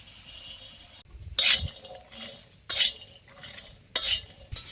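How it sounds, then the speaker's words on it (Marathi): Peeled pavta beans dry-roast on a griddle over a wood fire, with three sharp bursts of scraping and rattling as they are stirred, separated by quieter crackle, close by. "त्यात आता सोलून घेतलेलं पावट भाजून घ्यायचं"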